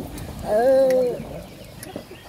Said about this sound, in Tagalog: Uy, may ibon.